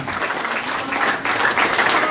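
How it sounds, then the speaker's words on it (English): Congregation at a funeral service clapping together, a dense steady patter of many hands filling the room at close range, with no voices breaking through. "put a big clap for Jesus"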